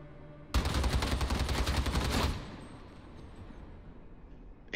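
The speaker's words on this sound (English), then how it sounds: "It is a fast-firing weapon that excels at delivering hard-hitting, albeit close-range damage to infested, unarmored, maniac enemies." An Ogryn stubber, a belt-fed machine gun in Warhammer 40K: Darktide, fires one loud, rapid, rattling burst of under two seconds, followed by a fading echo and a low game ambience.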